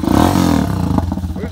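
An Irbis TTR 250 R motorcycle engine rumbles at idle with a loud exhaust, a close, throbbing, rapid low pulse with a brief rise near the start before settling into a steady chug.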